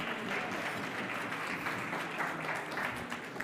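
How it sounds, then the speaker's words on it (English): Audience applause for a speaker at a Future of Work dialogue event, a continuous dense wash of clapping from a crowd in a hall, fairly distant and steady throughout. "Round of applause for Dr."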